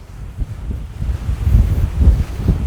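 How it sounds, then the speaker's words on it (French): Gusty wind rising outside a tall octagonal fortress keep in France, a low, buffeting rumble hitting the microphone in uneven surges, loud and close, with no voices. "Oh là, mais ouais, le vent se lève vraiment."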